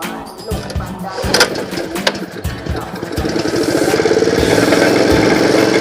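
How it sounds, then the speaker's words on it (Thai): A used three-horsepower Honda water pump engine starts up and settles into a steady, loud running drone that grows denser toward the end, with a bit of talk early on. "เดี๋ยวจะมาลองเทสเครื่องดูนะครับ ลองสตาร์ทดู"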